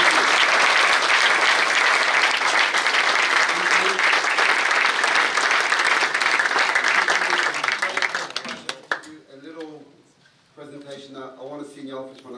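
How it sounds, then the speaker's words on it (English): Loud, dense applause from a large audience at a tribute for Lindsay Fox fills the first eight seconds, then thins out and fades as a voice begins talking over the last few scattered claps. "Can we please hear a round of applause?"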